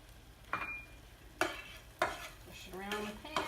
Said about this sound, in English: use your other hand here to give your onions a stir